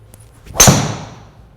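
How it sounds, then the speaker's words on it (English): Golf driver, TaylorMade M5 or Titleist TS3, striking a ball with a single sharp, solid crack up close, followed by a short fading ring. "Good sound and drive, that one, Matty. Sounds really solid."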